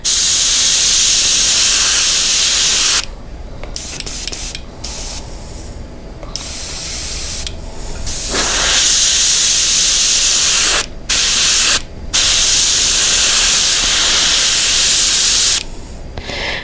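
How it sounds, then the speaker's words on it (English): A steady, close hiss of spray paint in long bursts while painting a red discus pattern, broken by several brief pauses, with no talking. "spray it at a little bit higher pressure just to get that out"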